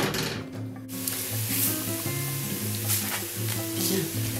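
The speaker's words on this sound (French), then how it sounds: "je fais cuire les pommes" Apples cooking in a small amount of water in a pan on the stove, a steady low sizzle and simmer with faint clinks, continuous throughout and fairly quiet.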